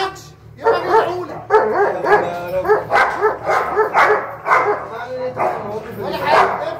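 A fierce dog barks in a rapid run of sharp, close, loud barks with a few yelping notes, while people talk nearby.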